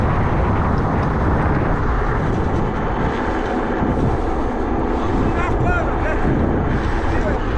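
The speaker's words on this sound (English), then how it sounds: "when I'm on a road like this and I need to book it, this fucking bike just goes." A motorcycle races down an open road at full speed through the Balkan region, with loud, constant wind roar buffeting the microphone and the engine blurred beneath it, no pauses.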